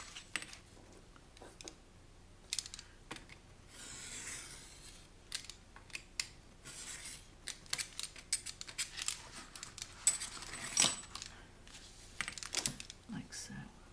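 Paper is trimmed for a staggered envelope journal with scattered close, crisp cutting snips and rustling handling sounds, irregular and fairly quiet, under a soft voice talking.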